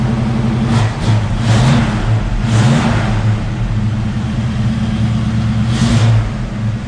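A neglected 1973 AMC Javelin Pierre Cardin edition, unmoved for years, drives off with its engine droning and revving in repeated swells, close and loud throughout.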